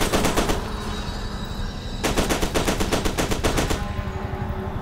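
Rapid automatic gunfire from blind firing in the shooter game F.E.A.R. 2, loud and close, in two long bursts separated by a short pause.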